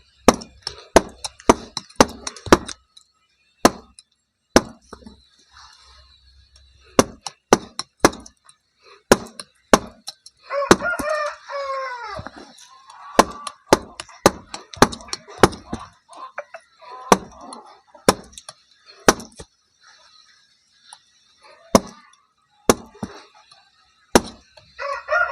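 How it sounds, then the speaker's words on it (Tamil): Sharp metallic taps of a chisel chipping and carving soapstone for a stone cooking pot, coming in quick irregular bursts, with a rooster crowing and hens clucking in the background. "இதுக்கு இந்த உளி மாதிரி வேணுங்க."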